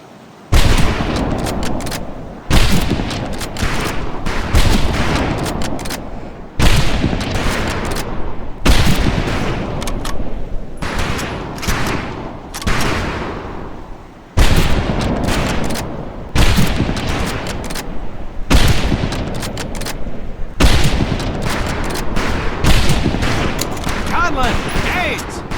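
Rifle fire at a firing range in a World War II video game, a long run of loud, close shots in rapid overlapping bursts with short gaps between volleys, at steady high volume throughout.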